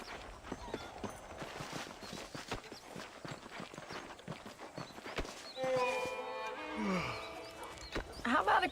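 Horse hooves clip-clop steadily while riding in the Red Dead Redemption video game, a continuous mid-level patter of hoofbeats with game ambience and a brief neigh-like burst near the end; no one speaks.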